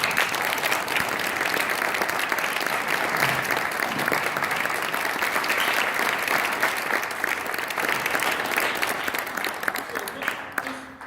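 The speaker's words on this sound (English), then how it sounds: "if we could all give him a round of applause" An audience at a closing-statements event applauds continuously, dense and loud for about eleven seconds before thinning slightly at the end, with faint voices mixed in.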